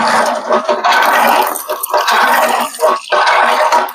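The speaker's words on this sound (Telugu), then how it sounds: "చూడండి కొడతా నీళ్ళు." Water gushes and splashes in loud, uneven surges, pausing briefly between strokes as a hand pump is worked at home, close by.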